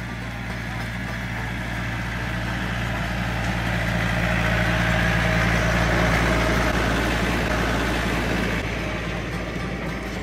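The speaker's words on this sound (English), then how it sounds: "A tractor pulls a trailer, and there's hay in the trailer to sit on." A steady low tractor engine rumble drones throughout, loud and constant, pulling a hay trailer, with a faint rattling texture over it and no voices.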